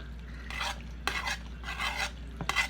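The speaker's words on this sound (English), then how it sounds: "And I'm just gonna stir that in there, and that's gonna be my stroganoff." Sour cream being stirred into noodles and vegetables for stroganoff, four distinct wet, scraping stirring strokes in a steady rhythm, close and clear with no talking.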